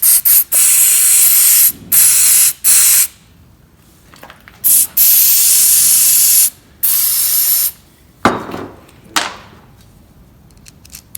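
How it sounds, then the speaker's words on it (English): Aerosol cleaner sprayed in repeated loud hissing bursts into the carburetor fitting of a 1981 Kawasaki KLT200 three-wheeler barn find, several short squirts and a few longer ones, close up with pauses between. "I'm gonna give everything a good squirt though"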